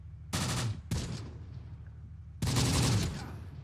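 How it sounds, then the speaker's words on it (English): Gunfire from the WWII tactical game Close Combat: The Bloody First, loud bursts of automatic fire in three close volleys with decaying echoes between them. "We can shoot at that bar team."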